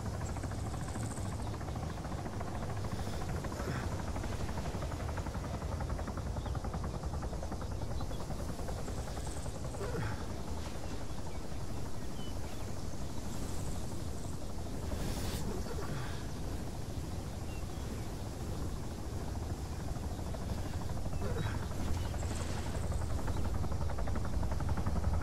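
A helicopter flies in the military video game Arma 3, its steady rotor drone and buzz holding at one level for the whole stretch as a continuous mid-distance wash with no talk over it.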